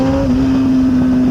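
Race car engine in a video game idling with an aggressive throttle cam, giving a loud, steady, choppy drone that lumps unevenly for a moment, with no voices.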